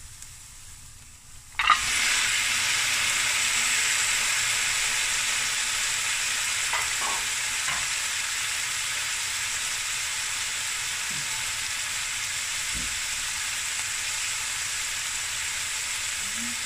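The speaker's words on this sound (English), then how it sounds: "Okay, I'm gonna add the meat." Raw meat drops into a hot pan for a traditional meat and potatoes dish, bursting into a loud, sudden sizzle that settles into a steady, dense frying hiss with a few faint clinks, no voices.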